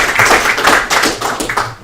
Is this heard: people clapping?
yes